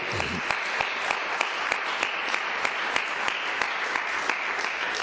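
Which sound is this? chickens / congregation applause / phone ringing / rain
congregation applause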